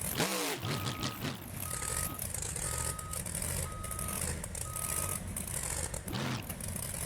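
Reversing beeps from a monster truck in BeamNG.drive pulse in a regular series of short tones over a steady engine rumble.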